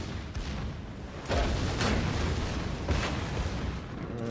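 Secondary guns on the German battleship Tirpitz in World of Warships fire in loud, booming volleys over a constant rumble of naval combat, several sharp blasts spread across a few seconds and no talking.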